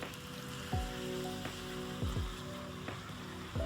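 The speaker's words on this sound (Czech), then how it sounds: "ale prší docela dost" Steady rain falls outdoors, a dense continuous patter with a few sharper splashes and some faint background tones mixed in, with no voices.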